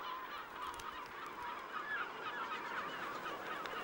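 A pair of puffins calling at a seabird colony, giving a steady, moderately loud chorus of honking, groaning calls with no talk.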